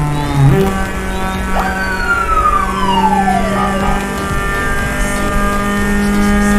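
A police siren wails loud and near in Euro Truck Simulator 2, its pitch sweeping in long slides over a steady engine drone from a Honda Civic EP3 Type-R.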